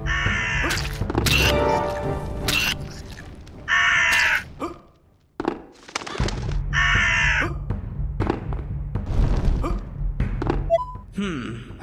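Crows cawing in the video game UnEpic, a series of loud, harsh caws repeating in bursts with short pauses, mixed with game thuds and effects.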